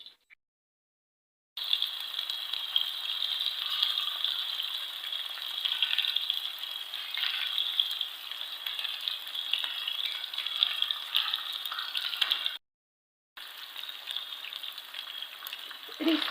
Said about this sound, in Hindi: तो इसे फ्राई करने के लिए मैंने जो ऑयल गर्म होने के लिए रख दिया।